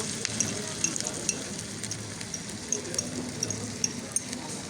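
Eggs for a cheese omelette sizzle steadily in a hot pan at a hotel breakfast buffet, a continuous crackling hiss dotted with faint clinks and ticks, with people talking quietly nearby.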